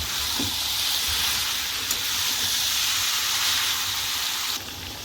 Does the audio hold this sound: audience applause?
no